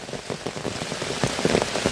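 Close, steady rainfall patters on a surface, heavy and unbroken, with a few slightly louder drops standing out and no one talking.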